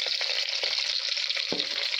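Stuffed brinjals frying in tempering oil, a steady bright sizzle running throughout with a few soft clicks of the pieces being set in the pan, no voices.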